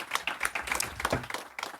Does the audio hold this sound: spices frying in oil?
no